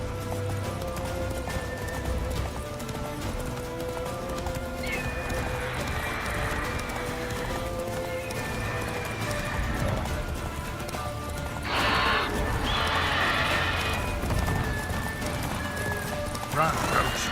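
Horse galloping in The Witcher 3, with rapid clip-clop hoofbeats running continuously and a neigh breaking through near the middle, set under game music and effects while a voice speaks briefly.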